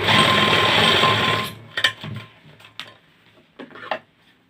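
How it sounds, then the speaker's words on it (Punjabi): A sewing machine stitches a shirt cuff in a loud, close, continuous whirring run that stops abruptly, followed by a few light ticking clicks and handling taps. "ਇਸ ਤਰੀਕੇ ਦੇ ਨਾਲ ਬਰੋਬਰ ਰੱਖ ਕੇ ਇਹਦੀ ਸਲਾਈ ਲਗਾ ਦੇਣੀ ਹੈ"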